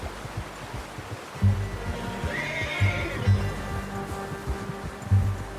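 A horse whinnies loudly in Red Dead Redemption 2, a rising, wavering neigh over soft, irregular hoof clip-clops and low ambient rumble.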